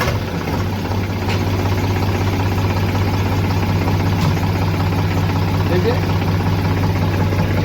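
A tractor engine runs steadily at a low idle-like rumble with a constant drone, close and loud, being used to tear down a cattle shed wall.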